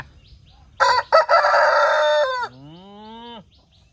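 A large rooster gives a single loud, close crow lasting almost three seconds, rising sharply and then trailing off into a lower, drawn-out finish against quiet surroundings.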